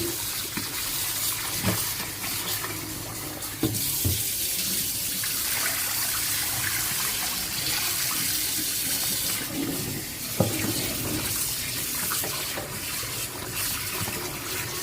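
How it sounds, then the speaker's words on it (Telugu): Country chicken pieces being washed under a running tap, a continuous splashing gush of water with hand-stirring swishes and occasional knocks, no talk. "వైట్గా వచ్చేదాకా కడగాలి"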